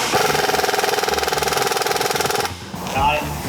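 Impact wrench with a socket on a swivel working a transmission bolt, a loud rapid hammering burst lasting a couple of seconds and then cutting off into quieter shop noise.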